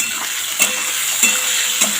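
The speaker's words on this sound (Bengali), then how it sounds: "আবারও মশলা দিয়ে সবজিতে ভালো করে কষিয়ে নেব" Vegetables and pumpkin greens frying with ginger paste, ground cumin and a bay leaf in a pan, with a constant bright sizzle broken by three evenly spaced scrapes of a stirring spoon.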